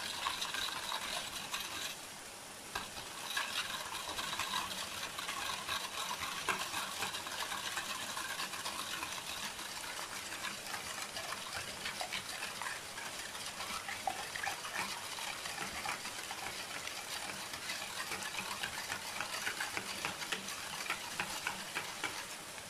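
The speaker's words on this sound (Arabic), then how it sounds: "هانتوما في اناء درنا جوج بيضات، غادي نطربوهم مزيان." Two eggs beaten in a bowl for a batter, a steady rapid scraping and clicking of the whisk running without pause, close and fairly loud, with no voices.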